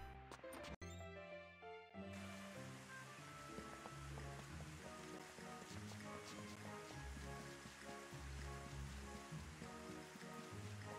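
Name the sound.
rain in Rune Factory 5 video game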